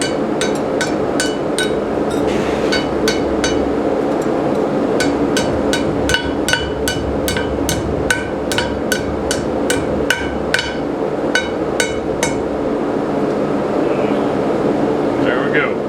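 A steel ring being hammered into shape on a cone mandrel in a blacksmith shop, with a long, steady series of sharp, ringing metallic blows close by over a constant background hum.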